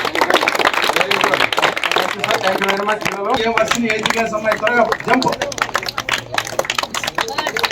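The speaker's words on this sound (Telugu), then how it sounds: "క్లాప్స్ క్లాప్స్ అమ్మా" A prize ceremony audience claps in a dense, continuous patter of many hands, loud and close, with voices talking over it throughout.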